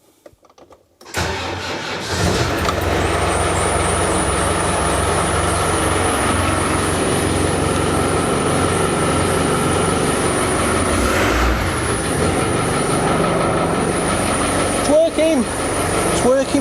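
A Land Rover engine cranks and catches abruptly after a brief silence, then runs at a loud, steady idle close by, with a high electrical whine over the low mechanical drone.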